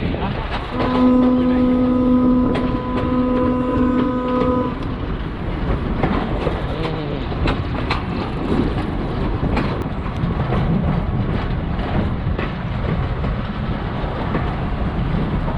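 Train running from Nangal to Bhakra, a steady rumble with clickety-clack wheel beats and wind noise, a long horn blast early on, with people talking over the ride.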